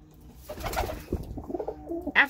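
Pet pigeons in an indoor loft give soft throaty coos, several rolling calls in a row with a brief flutter, close and fairly clear.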